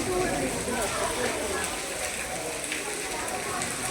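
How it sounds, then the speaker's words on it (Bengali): Heavy monsoon rain pours down in a dense, loud, unbroken hiss that fills every moment, with voices faintly mixed in. "মানে এত বৃষ্টি না, মানে বলে বোঝানো যাচ্ছে না, প্রচুর বৃষ্টি হচ্ছে।"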